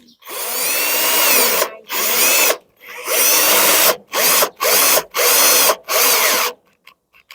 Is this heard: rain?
no